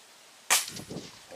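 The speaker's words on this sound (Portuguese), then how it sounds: "Tá o barulho da latinha?" An air rifle pellet strikes a metal bottle cap target at 25 metres, a single sharp distant crack followed by a brief faint ringing clang in a quiet outdoor setting.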